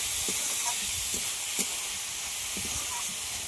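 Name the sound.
red lentils frying with spices in a pan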